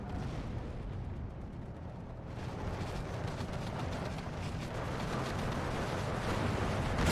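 Infantry guns firing shells in the Steel Division 2 war game, a continuous dense rumble of distant artillery that swells gradually over several seconds, with no talk over it.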